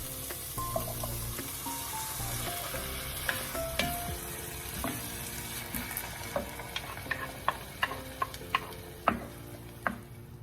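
Tomato paste frying into an onion mixture for a watermelon rind curry, with a low sizzle, running water in the background and a steady series of sharp spoon taps and scrapes.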